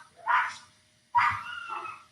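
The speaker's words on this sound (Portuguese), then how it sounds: "Ninguém falou da cachorrada, então me parece que a minha voz está sobressaindo a voz dos cães." Dogs barking in two separate bursts, a short one and then a longer, drawn-out one, with nothing else heard between them.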